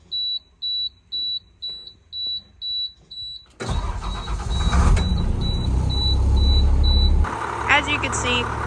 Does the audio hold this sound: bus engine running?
yes